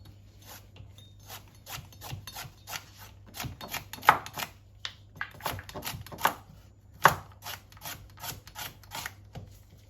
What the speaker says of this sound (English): You don't want your vegetables to be too big, so you cut them in small pieces